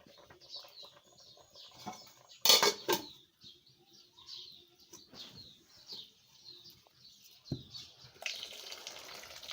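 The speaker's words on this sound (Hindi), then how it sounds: "अब मैं ये पानी इसमें निकाल दूँगी" Water is poured out of a cooking pot in a few short splashing gushes, with a louder burst early on and another near the end, separated by quieter trickles and light clinks.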